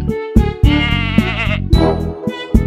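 A goat bleats loudly and close by, several wavering nasal cries in quick succession, over a looped rhythmic tone.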